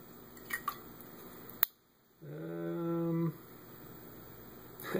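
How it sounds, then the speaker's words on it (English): Homebrew cider poured into a glass during a tasting session, a steady close liquid pour lasting about a second after a sharp click, with faint background hum and no talking. "Let's get this one poured."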